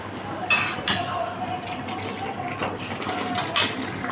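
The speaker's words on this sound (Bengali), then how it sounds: "তো আমি এখানে পরিমাণ মতো জল দিয়ে" Water splashes into a pan of frying papaya curry in short, distinct pours and trickles, close and fairly loud, with a low background hum and a voice speaking.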